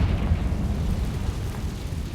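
A Confringo fire spell explodes in Hogwarts Legacy, a loud, rumbling low burst that fills the whole moment with no voices over it.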